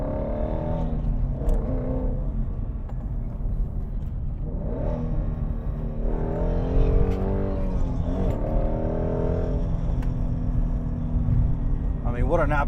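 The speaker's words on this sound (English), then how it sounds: "in the Shelby GT350 Mustang, and you can automatically just hear it. You have that sweet exhaust" Deep, throaty exhaust from a 2017 Ford Mustang Shelby GT350 with its 5.2 liter Voodoo V8 in sport mode, the engine rising and falling as it accelerates under someone talking inside the car.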